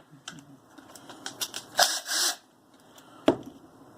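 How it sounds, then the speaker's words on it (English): Small screws being worked loose on a modern carburetor, a few light metallic clicks and taps close by, with a brief scrape near the middle. "So we're just going to undo the 9/32 screws."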